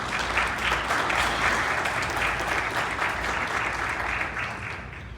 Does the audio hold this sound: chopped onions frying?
no